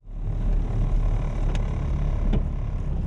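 A car drives along a road in Australia with a steady, close, low engine and road drone that begins abruptly and then stays constant, with a couple of faint clicks and no speech.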